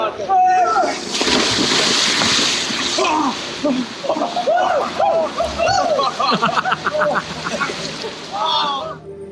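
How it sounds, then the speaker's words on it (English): People leap into a river on a hot summer day, throwing up loud, messy splashes and sloshing water while voices shout and chatter throughout. "they are allowed to throw themselves into the river like wild cavemen"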